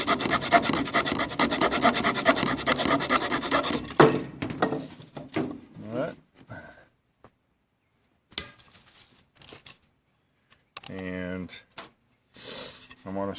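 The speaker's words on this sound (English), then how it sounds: "want to scrape a tinder bundle off of this" A Victorinox Fieldmaster knife blade scrapes a tinder bundle off wood in repeated rough, rasping strokes, steady at first and then broken into short bursts with pauses. A voice speaks briefly near the end.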